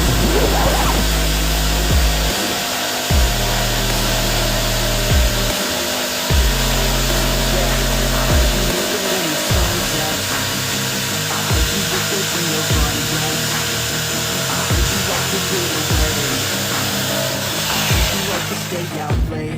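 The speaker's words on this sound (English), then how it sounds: "Using jigsaw, we will cut off the outside of the drawing." An electric jigsaw cuts along a drawn guitar body outline on a wooden template, a loud continuous buzzing whine broken by repeated short pauses and restarts throughout.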